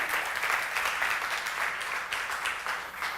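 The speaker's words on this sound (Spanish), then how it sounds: "Dar un aplauso al Señor, gloria a Dios." A church congregation applauds the Lord during a sermon, a continuous crowd of hands clapping at an even, fairly quiet level, with no speech heard over it.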